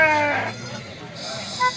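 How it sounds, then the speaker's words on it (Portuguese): Goats bleat at a crowded goat market in Jataúba, Pernambuco, where dairy goats and large billy goats are sold. A wavering bleat stands out near the start against steady background murmur of the fair. "Muito bonita sua cabra."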